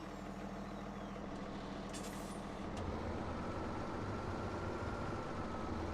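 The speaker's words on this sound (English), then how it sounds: "I don't like to put all the hours on one tractor, so let's use the blue power." Blue tractor in Farming Simulator 17 driving along with a steady low engine drone and a brief hiss partway through, continuous and even with no talking.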